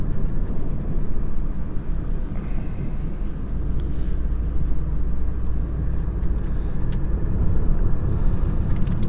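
Car interior while driving on a rural Pennsylvania road, a constant low engine and road rumble that fills the cabin steadily from start to finish.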